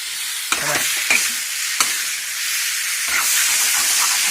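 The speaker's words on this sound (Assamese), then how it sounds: "গ্ৰেভি, মাংস, বিলাহী ভাজি হৈ আছে এতিয়া।" Broiler chicken gravy with tomatoes fries in a pan, giving a loud, steady sizzling hiss that rises through the clip, broken by a few sharp scrapes and clacks of stirring.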